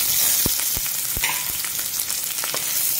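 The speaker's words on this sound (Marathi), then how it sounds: "कांदा चांगला लालसर गुलाबी होईपर्यंत परतून घ्यायचा आहे." Chopped onions frying with green chilli, garlic leaves and curry leaves, a constant crackling sizzle broken by a few sharp spatula scrapes against the pan.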